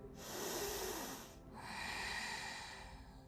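Two long, slow inhalations during a yoga session for the shoulder and hip joints, each a soft, breathy hiss lasting over a second, close and quiet, with no talking.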